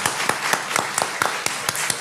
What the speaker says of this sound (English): give a big round of applause to our distinguished guests